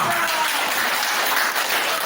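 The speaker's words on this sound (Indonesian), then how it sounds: "Tepuk tangan." Classroom applause from students after a group presentation, a dense, steady wash of many hands clapping at once, fairly loud and continuous for about two seconds with no voices on top.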